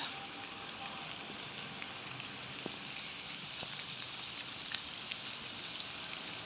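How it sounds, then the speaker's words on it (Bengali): Steady rain falling outdoors at an Eidgah prayer ground in Munshiganj, a constant broadband hiss with scattered droplet taps, moderately loud and continuous throughout. "বৃষ্টি হচ্ছে এই জায়গাটায়"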